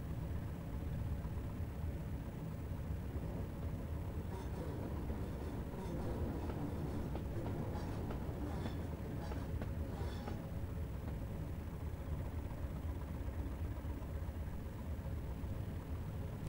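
A Class 205 Thumper diesel multiple unit in Train Simulator 2018 runs with a steady low engine drone and rumble, with faint clicking rail noises in the middle, and no talk.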